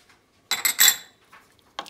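A spoon scrapes and clinks against a pot while a split peas cook-up with Chinese spice is stirred: a couple of quick metallic scrapes close up, then a softer knock and a final clink.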